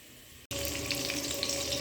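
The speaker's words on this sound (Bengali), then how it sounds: "এরপরে আমি এই যে ডিমটা ভাজা করছি" After a brief cut, a steady hissing sizzle of an egg frying in a hot pan carries on, close and fairly loud.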